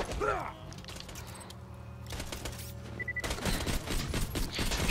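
Shotgun blasts from a midget enemy in Borderlands 2 come as a burst of booming video game gunfire with clattering mechanical clicks, dense and loud against a busy game soundscape.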